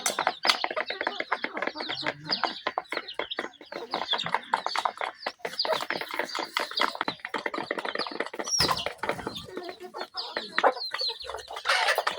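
Hens on a small home farm cluck and cackle almost nonstop, a busy close flock with scratchy shuffling and brief louder squawks throughout.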